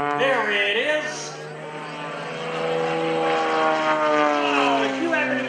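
A single-engine aerobatic propeller airplane performs rolls at the Greenwood Lake airshow, its engine droning loud and steady with rising and falling pitch as it maneuvers, while someone commentates over it.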